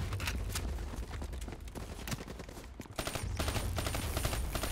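Rapid gunfire fills a Call of Duty Black Ops 3 campaign mission: dense bursts of automatic shots rattle loudly and continuously, with a brief lull before another heavy burst, and no talking.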